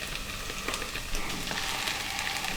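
Minced beef sizzles and crackles in a pan with already-cooked onions, a dense steady frying hiss with small pops and scraping, close and fairly loud.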